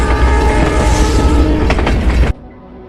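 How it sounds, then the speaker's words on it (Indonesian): A train rumbles past at close range, loud and continuous with rattling wagon clatter, then cuts off abruptly near the end. "Sucre melihat ada kereta melintas di depannya"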